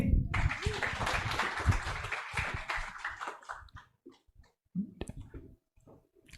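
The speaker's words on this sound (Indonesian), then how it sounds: "Beri aplaus sekali lagi" An indoor audience applauds a speaker named Rocky Gerung at a university talk in Balikpapan, a dense wash of clapping that starts loud and fades out over a few seconds, followed by scattered isolated claps.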